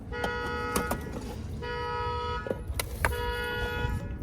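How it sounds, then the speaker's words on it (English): Car alarm sounding outdoors beside a home's central AC condensing unit, a series of repeating tonal whoops and chirps at moderate distance over background rumble and a few sharp knocks. "Oh, car alarm."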